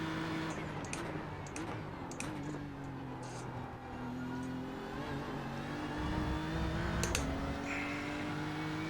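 A GT3 race car laps Monza in the iRacing sim, its engine note climbing through the gears with short shift breaks and brief clicks, fairly quiet and steady with no voices.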